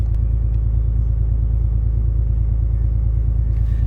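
A Cummins 6.7L diesel truck engine idles steadily, a deep, even rumble with a regular low throb throughout, close and loud with no talk over it.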